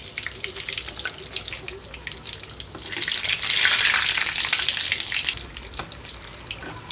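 Mirchi bajji, street-style chilli fritters, deep-fry in hot oil with a dense bubbling hiss that swells louder in the middle as a fritter is turned, then settles back. No one speaks.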